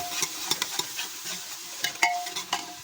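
Onions fry in a pan with a soft sizzle as a spoon stirs them, producing irregular scraping strokes and a few light metallic clinks, close and fairly quiet.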